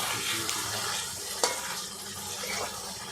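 Pabda fish being slipped into a hot pan over sautéed potatoes sets off a steady, close sizzle of frying, with a sharp crackling burst partway through.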